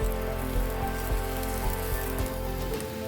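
An idli burger cooking on a slow flame gives a steady, close, hissing sizzle that sounds like rain on a surface, with faint soft ticks throughout and no voices.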